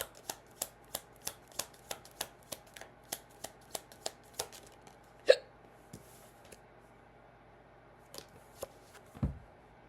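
Cards being shuffled during a tarot-style card reading: a steady run of crisp, evenly spaced riffling clicks, then a few scattered taps and a soft thump, close and quiet with no talking.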